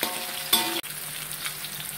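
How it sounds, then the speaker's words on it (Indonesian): Leafy greens and ingredients frying in a pan, a steady hiss and sizzle with a brief sharp clatter near the middle, close and continuous. "Kita goreng-goreng,"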